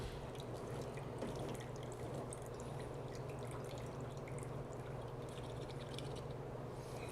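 Water pours from an opened can into a skillet while ratatouille is being cooked, a faint, continuous trickle and drip with scattered small splashes, steady throughout and with no talking.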